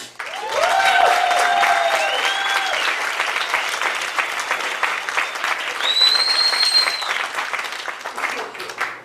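Audience applause for a show of hands about legalizing marijuana, a sustained crowd clapping for around nine seconds, with a few brief tonal whoops or whistles mixed in over the dense patter.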